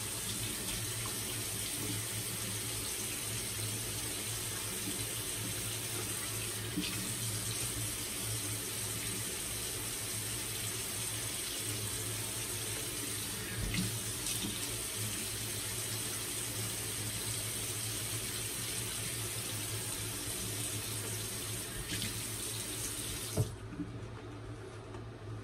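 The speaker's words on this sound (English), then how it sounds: "Sorry for the water running, guys, but I gotta add a lot of water to this." Tap water runs steadily into a sink for the whole stretch, a constant close hiss with no voices, then stops abruptly near the end.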